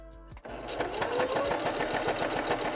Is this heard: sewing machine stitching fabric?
yes